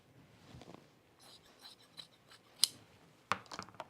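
Scissors cut through a piece of fabric during dressmaking, giving a couple of sharp, close snips over quiet rustling of cloth.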